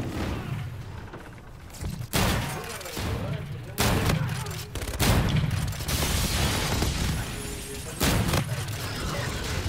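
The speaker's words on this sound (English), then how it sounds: "you can have dual-wield shotguns?" Dual-wielded shotguns firing in a video game, heavy booming blasts spaced a second or two apart amid game noise, with a person talking over the shots.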